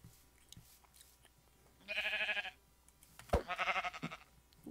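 Sheep in a video game bleating twice, each a loud, wavering call lasting about half a second, separated by a short pause over a faint low background hum.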